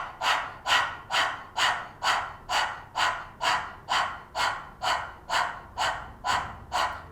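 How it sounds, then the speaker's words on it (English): A person pants rapidly with tongue out like a dog as a breathing exercise for stress, about a dozen sharp, evenly spaced breaths close to the ear, with no talking. "pant like a dog"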